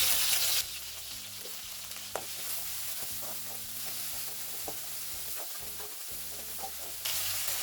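Onions and tomato sautéing in a pan for a Tamil anchovy fish curry, a steady sizzle with intermittent stirring scrapes and a low electrical hum underneath, continuous and close, with no talking.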